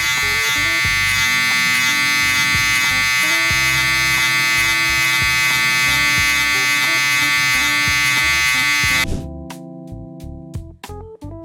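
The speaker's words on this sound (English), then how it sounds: "Next, with my trimmer, I'm gonna flick up about a pinky here." An electric hair trimmer buzzing loudly and steadily as it cuts hair during a barber's low taper mullet cut, then cutting off near the end, leaving faint handling noises.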